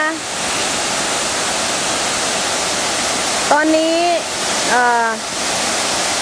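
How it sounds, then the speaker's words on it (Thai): A low-flowing waterfall on a Thai outing rushes steadily as a loud, even wash of water close by, while people briefly talk over it. "ก็จะเห็นน้ำตก ไม่มากเท่าไหร่"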